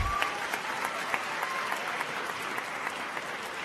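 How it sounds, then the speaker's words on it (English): An audience at a regional civics competition applauds students and teachers, a dense, even roar of many hands clapping in a large room, steady and sustained. "let's give a round of applause to the students and teachers"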